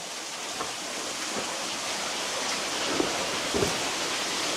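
A steady wash of falling water fills the space evenly, a constant broadband rush with a few faint drips or splashes standing out.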